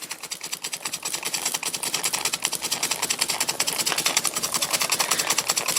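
A Cotswold Heritage Cirrus beam engine runs on steam from a Stuart 501 boiler while warming up, giving a close, loud, rapid mechanical chuffing and clatter that builds slightly in pace.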